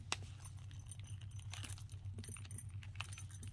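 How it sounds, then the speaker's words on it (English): Keys clipped to the back of a Coach handbag jingle and clink softly, a quiet metallic rattle with a few brighter chimes over a low steady hum, with no talking. "at the back, I have my key"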